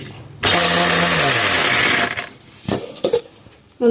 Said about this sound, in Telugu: ఫస్ట్ ఎండు కొబ్బరిని మిక్సీలో వేసుకుందాం